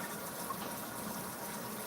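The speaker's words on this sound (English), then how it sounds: "fill it up with hot water" Hot water from a tap pours into a kitchen sink fitted with a garbage disposal, a steady broadband gushing rush, close and even throughout with no talking.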